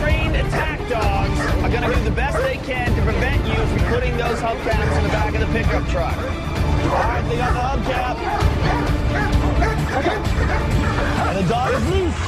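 A bandog barks and whimpers over and over in loud, yipping bursts, close by, with crowd chatter and voices mixed in throughout.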